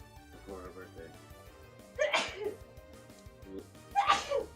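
Two sharp sneezes, about two seconds apart, burst out close to the microphone over a low, steady background hum.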